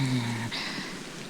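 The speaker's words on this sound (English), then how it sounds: "Curse this rain." A steady hiss of rain plays as a sound effect in a radio drama. It carries on after a brief spoken voice at the start.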